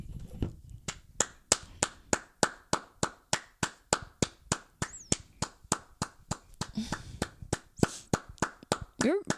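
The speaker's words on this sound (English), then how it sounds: "Your claps are always so long" Hand clapping from one person, a long run of loud, sharp claps at a quick, even rhythm close by, with brief speech sounds mixed in near the end.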